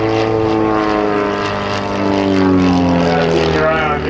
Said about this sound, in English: Keep your eye on Jason as he goes up into a half loop with a snap roll and another snap roll on the top of it